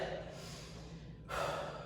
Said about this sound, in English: Just trying to control that breathing.